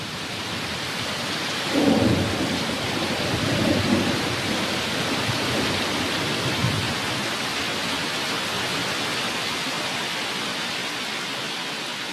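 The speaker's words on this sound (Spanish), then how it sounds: "Las lluvias son abundantes en esta región tropical durante los meses de la estación húmeda." Heavy rain pours steadily while low thunder rumbles early on, then the downpour continues as a dense, even hiss.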